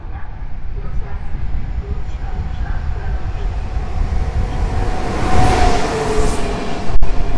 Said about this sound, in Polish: zbliża się do nas lokomotywa Husarz, która prowadzi skład BWE.